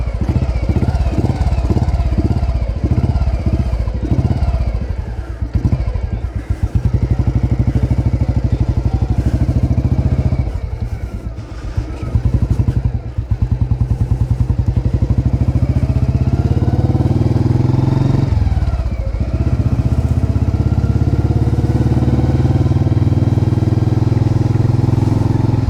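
A restored 1978 Royal Enfield Bullet 350 single-cylinder engine runs loud and close, its thumping exhaust note rising and falling with throttle blips, then settling into a steady rumble, with no talking.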